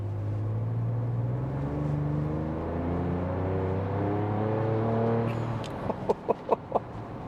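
A Ford Ranger Raptor engine revs loudly nearby, rising smoothly in pitch before falling away, then a few short sharp pops crackle out at the end, with no talking.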